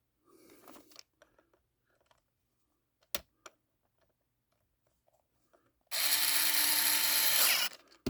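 A cordless screwdriver drives small screws into a Ryobi cordless trim router being reassembled: a few faint clicks and taps, then a single loud whirring burst of about two seconds.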